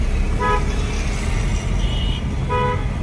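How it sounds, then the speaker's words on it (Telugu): A car horn sounds during a driving lesson on a road: two short toots about two seconds apart rise over steady engine and traffic noise, with a brief higher tone between them. "హారన్ చేయండి"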